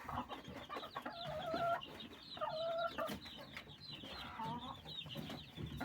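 A brooding hen sitting on a clutch of thirteen eggs gives soft, low, repeated clucks and short murmuring calls, faint and close, in a quiet setting without speech.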